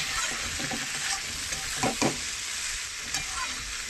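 Spices with chilli powder fry in a pan, making a continuous close, loud sizzle with a few sharper crackles and stirring scrapes.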